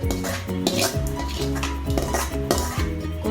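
Tempering poured into idli batter and mixed, with a utensil clanking and scraping against a metal vessel in quick, rhythmic, close strokes, a little sizzle underneath and no voices.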